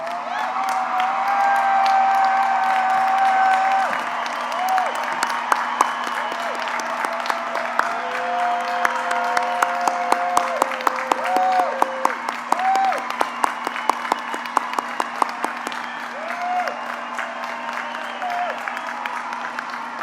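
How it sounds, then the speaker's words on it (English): Audience at a 2021 high school graduation ceremony applauding and cheering for the graduating class, a steady wash of clapping for about twenty seconds with scattered whoops and a crowd murmur throughout. "please stand and give your applause and recognition to this class of 2021."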